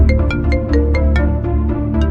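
A mobile phone ringtone plays loudly and without pause: a bright melodic chime of repeating tones in a steady rhythm. No one speaks over it.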